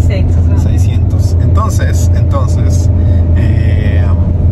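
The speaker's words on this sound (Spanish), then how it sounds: "El carrito de Talita apenas si puede subir. Es un motor muy pequeño." A tiny 600 cc car engine labours up a hill in a steady, heavy low drone heard from inside the car, while voices and other faint sounds break in over it.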